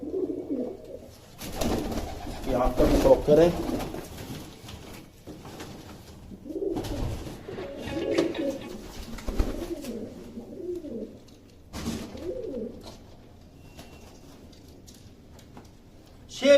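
Fancy show pigeons cooing in low, soft bursts, some of them near, between quieter stretches, with someone speaking briefly.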